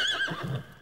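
A horse neighs loudly and close in a children's fantasy cartoon scene, one brief shrill whinny that falls in pitch and fades out.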